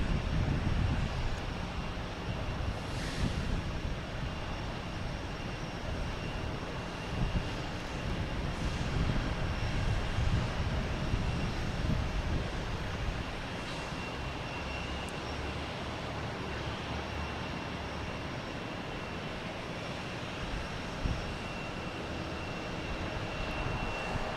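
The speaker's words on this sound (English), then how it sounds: "We have a JetBlue coming in from DC, A220, flight 2954." A JetBlue Airbus A220 on flight 2954 from DC, arriving at Boston Logan after dark, gives a faint, distant, continuous engine rumble over steady background noise.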